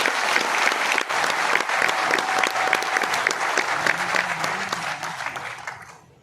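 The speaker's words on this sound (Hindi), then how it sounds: "इनके लिए एक बार जोरदार तालियां होनी चाहिए।" Loud, sustained applause from an audience at a product information event in Pune, dense steady clapping that fades away at the end.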